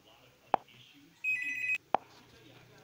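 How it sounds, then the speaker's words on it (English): A landline telephone gives one short electronic ring, framed by two sharp clicks, in a quiet room. "my mom called on the landline"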